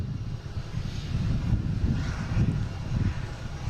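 A JetBlue airliner moves at Boston Logan airport, producing a steady low engine rumble with wind buffeting, distant and continuous throughout, no voices.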